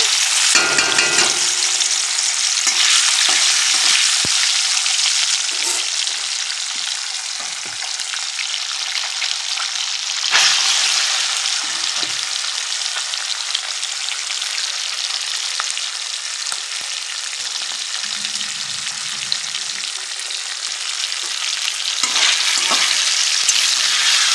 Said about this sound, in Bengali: বাঁশ পাবদা মাছ এটা তো এখন এটা ভাজা করবো